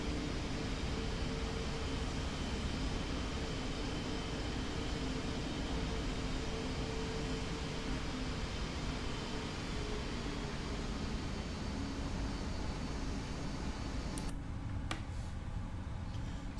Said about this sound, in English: Listen to those engines when I'm adding some power here.